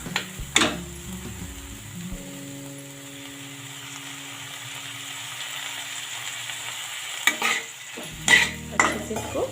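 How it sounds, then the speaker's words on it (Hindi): Eggplant being stirred into masala in a pan for baingan methi sabzi: spoon clanks and scrapes open the clip, a long quieter stretch with a low hum follows, then clattering stirring returns near the end. "अच्छे से इसको मसाले में मिक्स कर लेते हैं"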